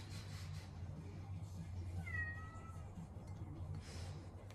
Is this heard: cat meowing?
yes